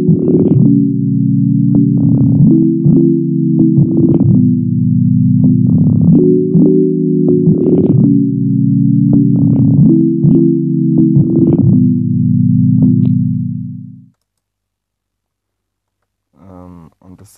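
An FL Studio synth processed with Gross Beat time warping and sidechain gives a loud, sustained, buzzy tone that pumps and stutters with rhythmic clicks for about fourteen seconds, then cuts to silence before a brief voice.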